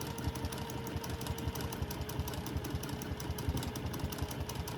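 A sewing machine stitches a thread painting with a fast, even rhythmic clatter, steady and moderately quiet, with no talking.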